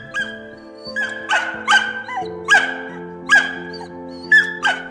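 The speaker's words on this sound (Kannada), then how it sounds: "ತನ್ನ ಮಕ್ಕಳನ್ನ ಕರ್ಕೊಂಡು ಹೋಗಬೇಡಿ ಅಂತ ಆಕ್ರಂದನದಿಂದ ರೂಬಿ ಕೂಗ್ತಾರೆ" A dog lets out repeated sharp, whining yelps in bursts about every half second to second, sounding distressed, over a low steady hum.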